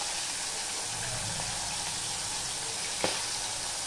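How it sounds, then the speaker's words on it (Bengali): Pomfret fish fries in an oiled pan with a steady, dense sizzle that stays close and even throughout, broken once by a brief sharp clatter near the end as the fish is turned. "পমফ্লেট মাছের এক পিঠটা ভাজা হয়ে গেলে আমি উল্টে দিলাম"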